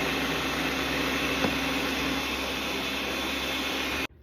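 Blender grinding chili sauce for tamales, a steady loud whirring drone that holds evenly for about four seconds and then cuts off abruptly, with no talking.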